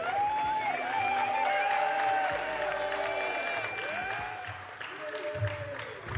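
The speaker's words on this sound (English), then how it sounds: "Let's give them a round of applause for their birthday" Spectators at a basketball game in a sports centre give a birthday round of applause, scattered clapping and crowd noise running beneath prominent overlapping talk and tonal sounds.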